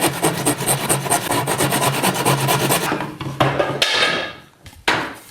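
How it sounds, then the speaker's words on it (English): Hand push saw cutting through a wooden dowel, giving a steady rapid rasping rhythm of close strokes for about three seconds, then a few separate louder scrapes. "You just want to make sure that you're pushing the piece that you're cutting towards the fence away from you, since this is a push saw, not a pull saw."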